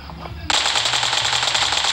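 Automatic gunfire in the video game PUBG bursts in after a brief lull, a loud, rapid, continuous stream of shots heard up close.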